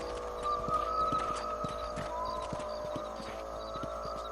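Horse hooves clip-clopping in a steady gallop rhythm as a rider travels in the Western video game Red Dead Redemption, moderately close, set against a faint background tone.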